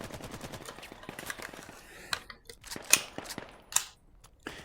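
AK rifle gunfire in the VR shooter Vail VR: a run of sharp, irregular shots and bursts, with a few louder cracks standing out near the end.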